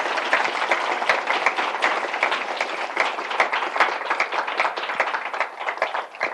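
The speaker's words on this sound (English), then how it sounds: "give Pat and Reed a round of applause for those wonderful answers" An audience at a panel discussion applauds the panelists, with dense, steady clapping from many hands that lasts throughout and fades slightly at the end.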